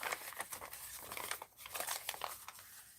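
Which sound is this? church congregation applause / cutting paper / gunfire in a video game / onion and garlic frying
cutting paper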